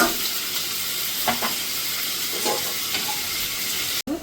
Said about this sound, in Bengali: এই তেলটাতে আলুটা ভেজে নেব।